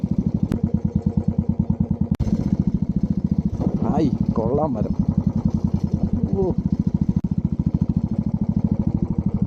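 Motorcycle riding along a forest path, a steady close engine putter running throughout while people talk briefly over it, with a couple of sharp clicks.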